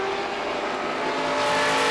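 Race cars at Beech Ridge Motor Speedway in 1992 scream past close by in a dense, loud, steady engine whine that grows slightly louder toward the end.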